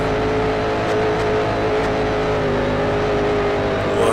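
A race car engine roars in the video game Grand Prix Legends on an oval, loud and steady at high revs in fourth gear, climbing slightly in pitch at the very end.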